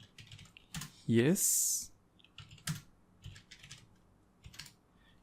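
Quick bursts of keystrokes on a computer keyboard while code is written, close clicking in short runs alongside a person talking.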